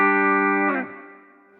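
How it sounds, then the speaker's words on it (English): Guitar chord through the spring reverb of an Epiphone So Cal 50 amp, a loud sustained chord that cuts off and leaves a reverb tail fading out over about a second. "One other thing you'll get to hear is how deep the spring reverb on this amp is."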